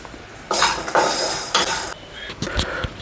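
White sesame seeds and dried coconut dry-roasting in a pan for a stuffed brinjal masala curry, with bursts of stirring and scraping against the pan and light clinks of a utensil, close up and with no talk.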